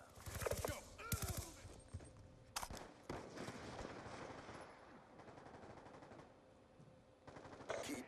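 Rapid automatic gunfire from Black Ops 2 multiplayer crackles in bursts, loudest at the start and again near the end, with quieter shooting and game ambience in between.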